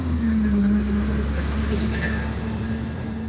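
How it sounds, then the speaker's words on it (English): A garbage truck passing outside, a steady low engine rumble and road noise that holds throughout, loud and close, with no speech over it. "Give me a sec, garbage truck"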